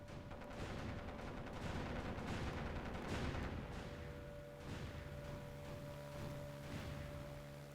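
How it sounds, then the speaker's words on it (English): Aircraft strafing a base in the game Ground of Aces: a continuous loud rattle of gunfire and booming impacts, sustained throughout with a few sharper bursts near the end. "A little bit of strafing was done"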